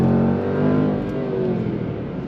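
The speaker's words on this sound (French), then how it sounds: "on est sur un véhicule avec un V8 5 litres, un véhicule qui envoie vraiment beaucoup avec 550 chevaux" A Jaguar F-Pace SVR's 5.0-litre V8, rated at 550 horsepower, rumbles loudly and close, a deep harmonic drone that swells briefly and then settles back, with no speech over it.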